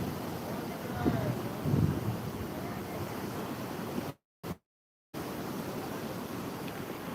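Wind gusting against the microphone at a seashore, a low steady rush with faint surf behind, briefly cutting out in the middle.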